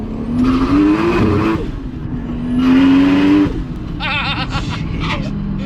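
A Toyota Supra MK4 accelerates hard in cold weather, its engine note climbing in two loud rising pulls separated by a brief lift, followed by rougher revving and a short tyre scrub.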